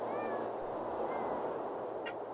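Faint, thin cat meows drift over a steady background hiss in the game Thirty Flights of Loving, two soft mews early and a brief chirp near the end, distant and quiet.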